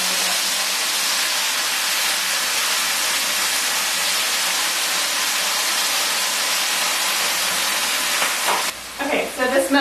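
Water poured into a hot pan of green beans erupts into loud, steady sizzling and steaming hiss that holds constant, then breaks off near the end into crackling bubbles.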